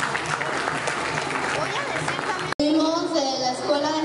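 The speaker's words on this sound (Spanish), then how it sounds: "Lo recibimos con un fuerte aplauso." Applause and crowd noise welcoming a children's taekwondo school demonstration, with children's voices mixed in; the clapping cuts off abruptly partway through, followed by someone speaking.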